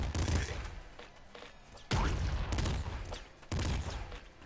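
A pop rifle fires in the Nuclear Throne video game, giving three loud bursts of rapid, crackling shots with brief quieter gaps between them.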